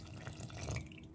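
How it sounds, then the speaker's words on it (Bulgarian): Cold water is poured into a bowl of flour and beaten egg, a short soft splashing trickle close by in a quiet kitchen with no talk. "Добавяме и около 1/3 студена чайна чаша вода."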